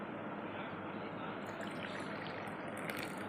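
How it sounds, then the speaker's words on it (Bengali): Freshly made milk tea is poured from a pot into a cup, a soft, steady liquid stream running quietly and evenly for a few seconds, close by with a faint background hiss. "চা আমার হয়ে গেছে, আমি চাটাকে ঢেলে নিলাম।"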